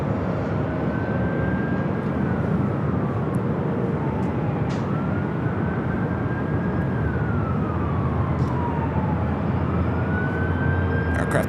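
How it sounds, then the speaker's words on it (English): A Boeing 737 MAX 9 jet takes off at LAX with a steady, loud, broad engine roar and a faint rising and falling tone over it. No voices are heard. "Aircraft that just took off on the south side was a flight heading to Honolulu, flight 1307, 737 at max 9."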